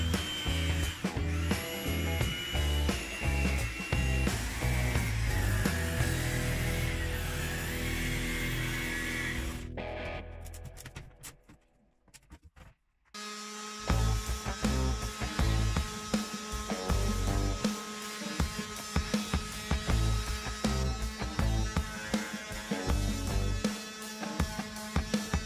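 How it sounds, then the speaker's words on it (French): Jigsaw fitted with a metal-cutting blade sawing through clear polystyrene sheet, a buzzing, rattling cut that runs for about ten seconds, drops out briefly, then resumes in a choppier, stuttering burst of sawing up close. "je découpe également la plaque à la scie sauteuse avec une lame de scie à métaux."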